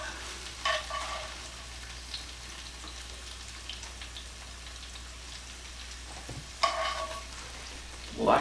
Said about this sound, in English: now I'm going to be putting on my onions and pepper